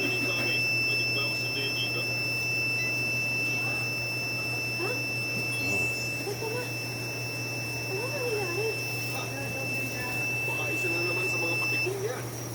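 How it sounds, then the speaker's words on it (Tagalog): A smoke detector alarm sounds as a continuous high-pitched electronic tone, steady and loud, with a person talking over it and a low hum underneath. "nag-alarm, smoke alert, check the area"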